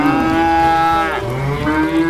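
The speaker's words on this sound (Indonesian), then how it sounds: "Ini sapi." A toy cow makes a loud, close moo, one long harmonic bellow that rises and falls, heard alone.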